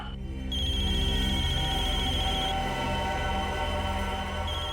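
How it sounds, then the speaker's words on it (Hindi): A mobile phone ringtone plays loudly and steadily, a sustained electronic melody with bright repeating tones over a dense musical backing, heard in a crime drama scene with no talk over it. "इसमें तो मोबाइल के रिंगटोन जैसा कुछ बजा है।"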